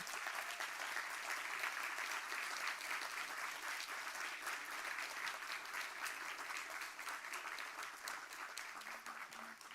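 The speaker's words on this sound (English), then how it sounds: "Let us all congratulate and wish President Sarma well with a rousing round of applause." Sustained applause from an audience at an investiture ceremony, steady and fairly distant, continuing evenly for the full stretch without talk over it.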